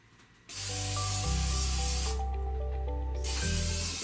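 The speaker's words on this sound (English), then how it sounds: "let's just spray this with oil" A steady hiss of cooking oil spray, sprayed in a few long bursts with brief pauses between them.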